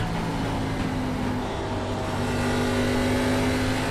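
Race car engine in the iRacing sim, an ARCA Menards Series car at Bristol Motor Speedway, droning loud and steady without a break for four seconds, with no talking.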